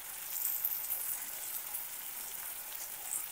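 Tomatoes with salt sautéing in hot oil, a steady close sizzle and crackle running evenly throughout with no voices.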